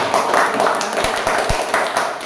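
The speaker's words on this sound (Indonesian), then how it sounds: "kita tepuk tangan dulu ya" A classroom audience claps together in a steady, dense patter of many hands that continues at an even level from start to finish.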